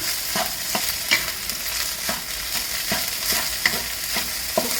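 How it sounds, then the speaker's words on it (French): Rice with shrimp and egg sizzles in a pan while a spatula scrapes and tosses it in rhythmic strokes, close and steady, with no voices. "คลุกข้าวกับกุ้งกับไข่เข้ากันก่อนนะคะ"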